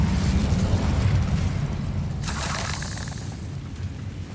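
Incendio fire spell blast in a Hogwarts wizarding video game, a loud roaring burst of flame that swells sharply midway and rumbles on steadily to the end, with no talking.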